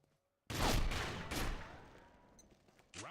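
A single loud shotgun blast in a video game breaks a near silence and rolls off into a long fading rumble, with another sharp shot starting right at the end.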